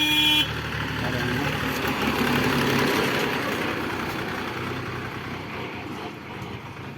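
An old KhTZ 3512 tractor engine idles and runs with a steady low rumble that slowly fades as it moves off.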